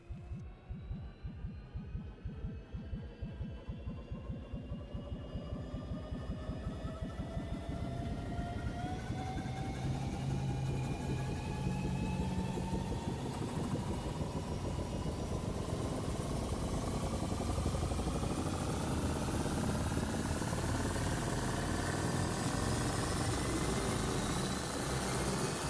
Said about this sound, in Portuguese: deixa-me cá começar a máquina do tempo.